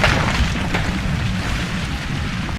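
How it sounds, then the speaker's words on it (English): Cannons crashing to earth as an audio drama sound effect: a loud, dense rumbling crash with low booming thuds that roll on for a couple of seconds before cutting off abruptly. "Cannon after cannon comes crashing to earth."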